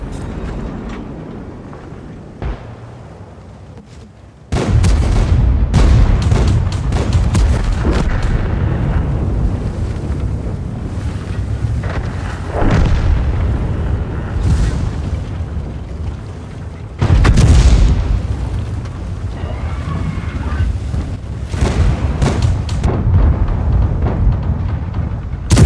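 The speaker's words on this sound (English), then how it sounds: "Idiot over there is shooting at me." Tank cannon fire and explosions in World of Tanks, heavy booming blasts starting abruptly and recurring, with deep rumbling between shots and a loud blast near the end of the stretch.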